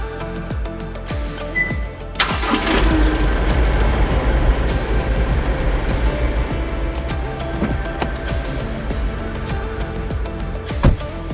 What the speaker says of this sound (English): with the remote engine start feature, you don't even have to climb in to hear it